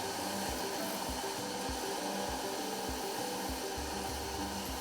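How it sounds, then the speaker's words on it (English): Sanding machines whir continuously as workers smooth carved flip-flop foam sculptures, a steady loud motor drone with rhythmic low bumps and scraping as pieces are pressed against the sanders. "they'll come here and sit down and use these sanding machines to smoothen the sculptures"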